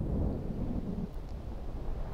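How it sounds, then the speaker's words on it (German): A thunderstorm in the video game The Apartment rumbles as a low, continuous roar of thunder and wind with rain, heavy and steady throughout with no voices. "Dieses Unwetter, schon seit heute Morgen regnet es ununterbrochen."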